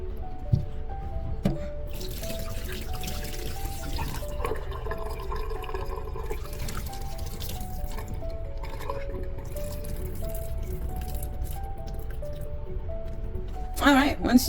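Wild grapes are swished and rinsed by hand in a bowl of very warm water, giving steady splashing and sloshing under soft background music throughout.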